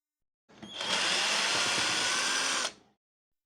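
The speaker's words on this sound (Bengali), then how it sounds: "আর যেহেতু আমি স্ক্রু খুলবো, তাই এইটিতে স্ক্রু খোলার গিয়ারগুলো সেট করে নিব।" A cordless drill running on a homemade battery, set to its first gear, unscrews a screw. It gives one close, steady whirring burst of about two seconds that starts and stops abruptly, with silence on either side.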